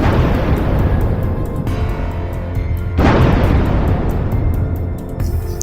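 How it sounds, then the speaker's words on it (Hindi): A dense, rumbling barrage of cartoon explosions, with a sharp, louder burst about halfway through, continuous and loud with no pauses. "ज़ोंबी के पास कई विस्फोट होते हैं"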